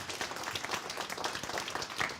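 Steady applause from an audience, many hands clapping together at an even level throughout.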